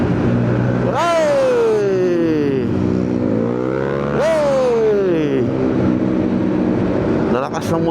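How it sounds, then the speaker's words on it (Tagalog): Loud motorcycles, big bikes on a morning commute in heavy traffic, roar past with rising then falling engine pitch in two strong revving passes, recorded close during a ride. "Lalakas ng motor nila."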